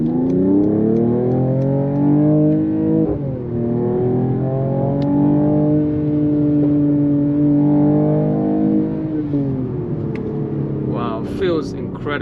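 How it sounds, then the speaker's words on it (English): A 2023 Mercedes-AMG GT 43 4-door coupe pulls hard, its engine note rising steadily in pitch through two long sweeps that are broken by a brief shift, then fading as a voice speaks at the end. "This car just takes off."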